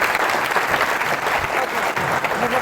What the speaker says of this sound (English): Another round of applause, please, for Mike Gamson